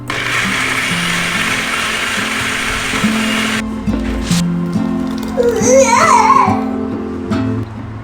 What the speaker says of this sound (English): Blend it well.